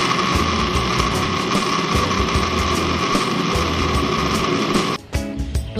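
Spice paste for tuna rendang, made of shallots, turmeric, ginger, lime leaves and tuna broth, is ground in a loud, steady humming machine that runs for about five seconds and then cuts off.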